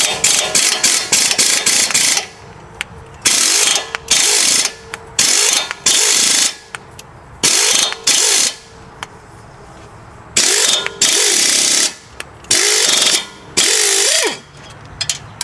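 A 12mm ratchet working the brake hose bracket bolt on a 2013 Honda Pilot, a loud, close, rapid clicking in repeated bursts with short pauses between strokes, heard without any talk.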